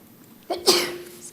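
A single sharp sneeze bursts out near the microphone during a county commissioners' board meeting, a short loud blast that trails off into room tone.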